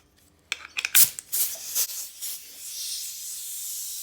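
Compressed air blasts through the holes of a Mercury 15hp outboard carburetor in several short, sharp close bursts, then settles into a longer steady hiss.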